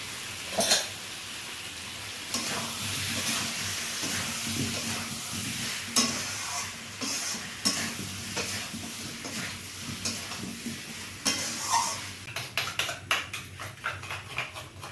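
Potatoes for Bengali niramish aloo dum are sautéed in a pan with sugar and salt, a soft sizzle broken by repeated scraping and knocking strokes of a spatula, close, ending in a quick run of taps.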